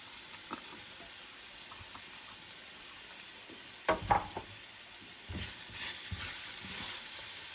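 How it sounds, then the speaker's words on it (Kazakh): Carrots frying in a pan with sweet pepper and garlic for a chicken soup, a soft steady sizzle with scraping stirs near the middle and a louder burst of hissing toward the end. "Келесі кезекте үстінен сәбізімізді қосып, жұмсарғанша 10-15 минуттай пісіріп алатын боламыз."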